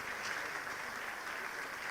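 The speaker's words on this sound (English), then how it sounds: "One more time, can we give her a round of applause?" An audience at an International Women's Day seminar gives a commissioner a steady, even round of applause, a soft wash of many hands clapping alone for two seconds without a break.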